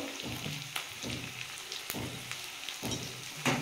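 Onion and garlic frying in oil with turmeric and chillies, a steady close sizzle broken by repeated clinks and scrapes of a spatula stirring the pan, with no talk.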